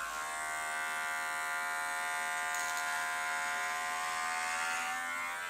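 An electric hair clipper runs steadily at close range with a constant high buzz, cutting away one side of a head of hair during a first home haircut.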